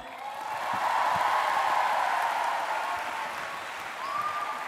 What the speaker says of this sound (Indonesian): Yang pertama, tepuk tangan untuk Fakultas Tarbiyah